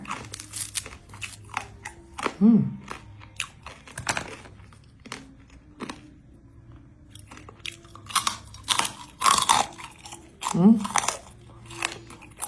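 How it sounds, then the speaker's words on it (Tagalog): Crunchy pork fat chewed and bitten close to the mic, with bursts of crisp crunching and mastication scattered through the passage between stretches of quieter chewing and brief talk. "Ang matandang kumakain ng taba."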